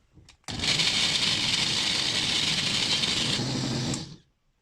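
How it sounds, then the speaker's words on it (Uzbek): A blender whirs loudly and steadily through beetroot with water for about three and a half seconds, then cuts off abruptly, with a faint rattle just before it starts. "Endi buni blender qilib olamiz."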